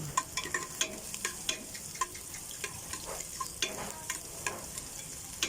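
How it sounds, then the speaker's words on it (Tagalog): Onion and garlic sautéing in a pan toward golden brown for a saluyot and labong dish, giving a steady close sizzle with repeated light clicks and scrapes of stirring throughout. "malapit na pong mag golden brown ang ating sibuyas tsaka bawang"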